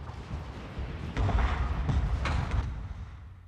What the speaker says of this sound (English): Let's let the cannons continue firing for a bit.